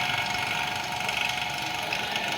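A vacuum pump used for evacuating an air conditioning system during refrigerant servicing runs at a steady mechanical hum with a constant whine, close and unchanging throughout.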